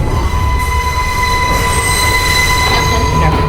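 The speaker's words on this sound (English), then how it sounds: "This is a Bronx-bound 5 train." A New York City subway 5 train, Bronx-bound, in a station: loud rumbling wheels with sustained high metallic squeal and ringing tones from the rails, steady and close throughout, with no voices.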